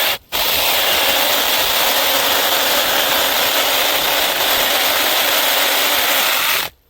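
A small cordless electric mini chainsaw with a 6-inch bar whirs steadily through a small tree for several seconds, a continuous buzzing cut that starts and stops abruptly, with no talking.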